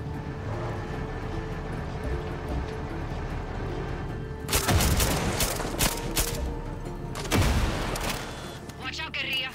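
Gunfire in the Far Cry 6 video game: two loud bursts of shots break over a steady engine-like game rumble, close and sharp, with quieter background sounds between them.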